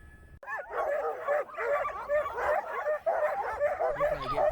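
Sled dogs at a dog camp in Alaska yip, bark and whimper in a busy, overlapping chorus, close and fairly loud, continuing steadily after a brief quiet start.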